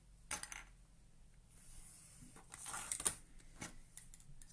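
A sewing machine stitching a double zip pouch, quiet mechanical whirring and clicking in short bursts with pauses between runs, close by and fairly faint.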